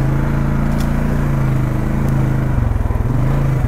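A 2019 Polaris Sportsman 570 X2 EPS engine hums steadily while cruising, a smooth low drone with a slight rhythmic pulsing near the end, no talk.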